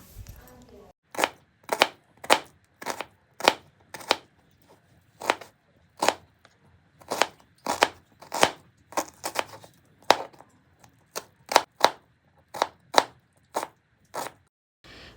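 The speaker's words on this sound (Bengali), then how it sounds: "এবার আমি পেঁয়াজটাকেও একদম ছোট ছোট করে কাটবো" Onion finely chopped with a knife on a board, a long run of crisp, evenly spaced thuds about one or two per second, close and alone.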